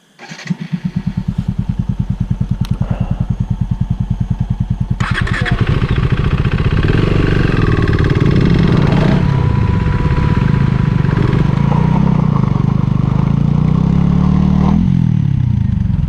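Ninja 300 or RC 390 motorcycle engine cranking with rapid chugging, then catching and settling into a loud, close, steady idle with occasional throttle blips.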